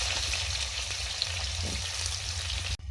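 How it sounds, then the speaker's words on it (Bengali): Fish frying in hot oil at home, a steady dense sizzle holding loud and close throughout before cutting off abruptly near the end. "মাছগুলো ভেজে তুলে নিচ্ছি ভেজে নিচ্ছি একটু"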